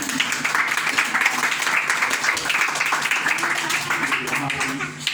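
An audience applauds at a prize-giving ceremony for a pesantren (Islamic boarding school) end-of-year competition, with close, lively clapping that runs under a loudspeaker voice.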